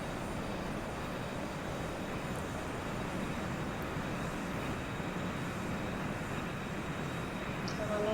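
A Challenger 300 business jet takes off in the X-Plane 11 flight simulator, its engines giving a steady, loud roar that holds at an even level from start to finish with no talk over it.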